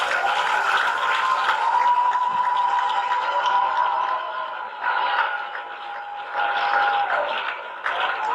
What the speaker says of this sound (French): Une acclamation pour le Seigneur Jésus-Christ.